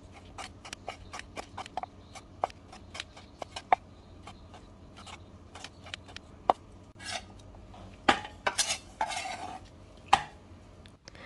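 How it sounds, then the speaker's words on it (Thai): Knife slicing Thai fish noodles into thin rounds on a cutting board: a fast run of crisp, close taps, then sparser single chops and a few scraping strokes, with no talking. "หั่นก็ให้หั่นเป็นแว่นๆหั่นเป็นบางๆแบบนี้ค่ะ"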